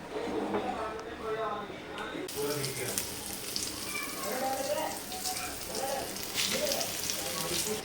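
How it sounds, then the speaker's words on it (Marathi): Fish fries in hot oil in a pan, a steady crackling sizzle that runs throughout, close and moderately loud, with someone speaking over it. "आता मच्छी तळून घेते लगेच"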